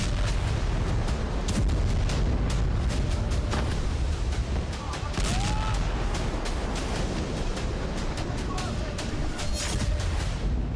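Distant airstrike explosions in southern Beirut rumble and boom as repeated sharp, heavy thuds over a constant low roar, heard from far away with a faint voice underneath.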